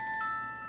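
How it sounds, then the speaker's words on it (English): A steady electronic beeping tone rings continuously, a sustained alarm-like chime sounding close and fairly clear with no voices. "That is my alarm clock."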